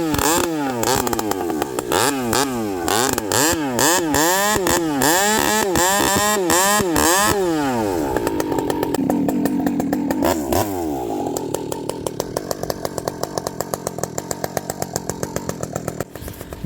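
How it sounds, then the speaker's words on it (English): A chainsaw with a long bar cutting and limbing a log, close and loud. The engine revs rise and fall repeatedly under load, then settle into a steadier buzzing drone. "as I'm cutting and limbing the other side, I have the weight of the saw is touching the wood"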